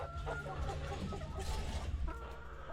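Laying hens in a poultry house cluck and murmur together in a dense, steady chorus over a low background hum.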